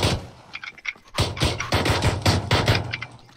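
Video game gunfire crackles in rapid bursts of loud, close shots, fired in quick volleys after a few scattered pops.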